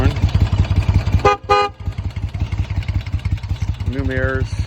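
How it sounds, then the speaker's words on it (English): A 1973 Moto Guzzi Eldorado 850 motorcycle sounds its horn in two loud, close blasts, one short and one slightly longer, over the steady throb of its idling engine. "loud horn"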